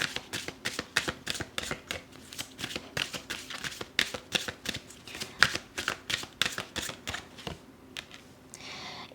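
Tarot cards are shuffled in quick repeated riffles, a close, crisp, rhythmic flutter that goes on throughout with no talk.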